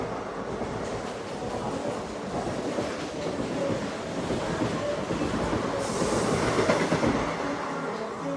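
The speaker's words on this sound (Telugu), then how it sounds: "Peddapalli junction railway station skip చేసుకుంటూ వెళ్ళిపోతుంది" Express train running straight through Peddapalli Junction without stopping: a loud, continuous rumble and rattle of wheels on rails that swells slightly toward the end, with no voices.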